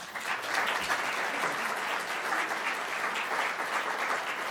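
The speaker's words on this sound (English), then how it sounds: "the applause there jumped, sort of jumped the gun there a little bit" Audience applause at a law school lecture, a steady, dense wash of many hands clapping that holds at a fairly loud level throughout, with no voices over it.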